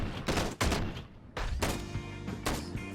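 Submachine gun fire in the Ride to Hell: Retribution video game comes as several loud, dense bursts of rapid shots separated by short gaps.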